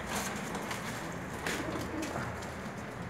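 Pigeons cooing steadily in a loft, a dense, continuous murmur of overlapping low calls from several birds, fairly loud and close, with no talking.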